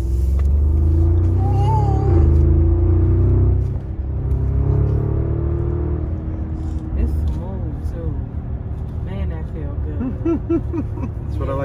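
A 2020 Audi SQ7 Prestige engine revs hard at first, a deep loud roar that drops away after a few seconds into lower running, with people chatting inside the car over it.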